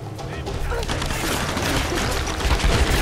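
Gunfire in the Tomb Raider video game crackles as a dense, continuous barrage of close shots throughout, mixed with other game sounds.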